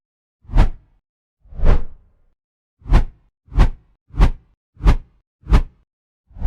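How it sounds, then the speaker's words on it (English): A series of whooshing swoosh sound effects played at varied playback speeds, so each carries a different pitch. Eight clean, separate swishes come alone, starting spaced apart and then arriving in a quicker, even rhythm. "When you adjust the playback speed, the audio pitch of that sound effect changes, making the swoosh sound different."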